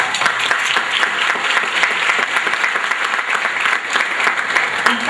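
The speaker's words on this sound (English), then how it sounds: "I just want to give you all a round of applause" An audience at a women's panel discussion in Atlanta applauds steadily, a dense, even wash of many hands clapping that holds for several seconds without pause.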